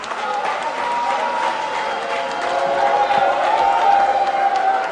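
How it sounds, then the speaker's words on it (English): Crowd clapping steadily at a political rally for a parliamentary candidate meeting delegates in Akatsi North, dense applause filling the space with cheering and voices mixed in, rising slightly toward the end. "Continue to show your love. Continue to clap for Honorable Kennedy Akupako Agyapong."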